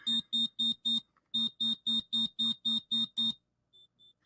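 A GPS tracker on a high-altitude balloon beeps in a loud, rapid series of about a dozen sharp, evenly spaced electronic tones, pauses briefly, then gives a few much fainter beeps.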